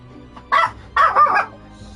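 Dogs bark indoors, two short, loud, close barks about half a second apart, with faint background noise between them.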